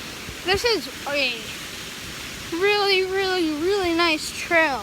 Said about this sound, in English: And here we are, this giant waterfall.